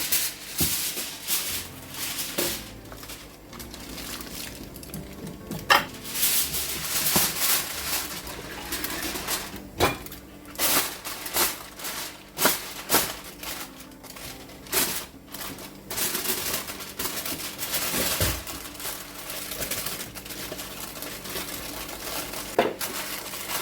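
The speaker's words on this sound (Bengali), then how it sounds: "আমি আরেকটা ফয়েল পেপার দিয়ে এটাকে মুড়িয়ে নিব" Foil paper crinkles and crumples as a whole spiced fish for grilling is wrapped tightly, in irregular bursts of crackling rustle with brief pauses, close and moderately loud.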